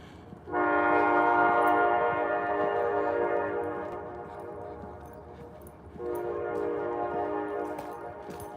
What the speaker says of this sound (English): We hear train horns.